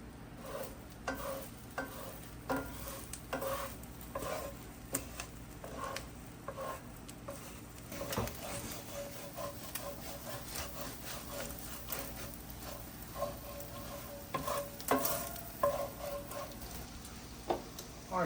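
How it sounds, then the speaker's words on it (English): An egg is stirred and scrambled with butter in a pan at a camp, with a soft scraping and patter of the utensil over a low, steady sizzle, repeating at an uneven rhythm. "We're just gonna scramble this egg."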